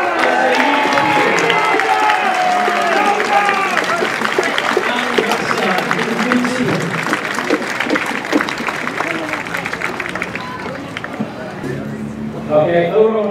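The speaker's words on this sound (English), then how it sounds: "I want you to give a big round of applause for all the Britons today." A big crowd applauds at a Roman-themed historical show in Chester, with dense clapping and some cheering mixed with chatter, holding steady throughout and briefly swelling near the end.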